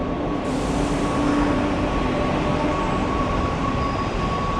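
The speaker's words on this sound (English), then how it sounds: "Oh, here's the actual metro." A Washington Metro subway train runs through Silver Spring station with a loud, steady rumble and a faint high whine that holds throughout, with no voices.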